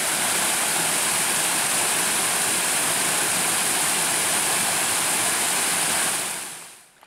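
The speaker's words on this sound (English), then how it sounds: "There's a little waterfall up here." A small waterfall on a forested hiking trail pours in a steady, close, full-bodied rush of splashing water that holds constant for about six seconds before cutting away abruptly, with no voices.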